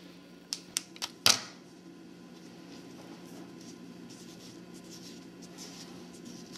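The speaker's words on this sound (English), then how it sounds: "Let me grab my scissors and start cutting off this excess fondant." Scissors make three quick crisp snips, then a sharper cut, trimming excess fondant off a graduation cake shaped like school books, followed by a quiet room hum.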